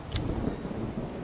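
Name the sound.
rain and thunder in the video game Resident Evil 7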